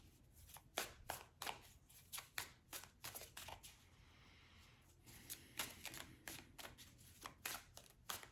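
Tarot cards shuffled by hand during a reading: a rapid, close series of crisp riffling bursts and soft card slaps with short pauses between rounds, and no talking.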